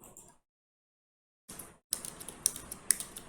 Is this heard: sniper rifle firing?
no